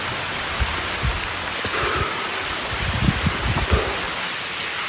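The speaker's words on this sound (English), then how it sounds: "You guys can hear it's raining." Rain falls steadily during a hike at Natural Chimneys, a soft continuous hiss with scattered louder drops and patters around the middle and late part, heard alone without talk.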